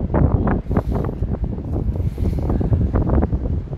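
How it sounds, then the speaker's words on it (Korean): Steady wind gusting past a microphone outdoors in a riverside park overlooking a bridge at sunset, a loud continuous low rumble with uneven buffeting throughout and no voices. "바람도 선선하게 불고"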